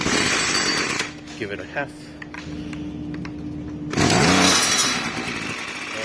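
A Ryobi 2-stroke weed eater with a freshly reset pull cord roars loudly, drops to quieter pulls and sputters with a voice talking over it, then surges back to a loud buzzing run.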